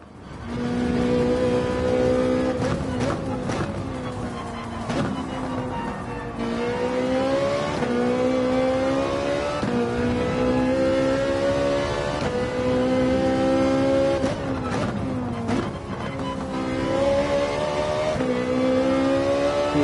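A Ferrari race car engine in Gran Turismo 7 during a Daytona race, droning loudly and steadily with rising and falling revs as it shifts gears, continuous throughout.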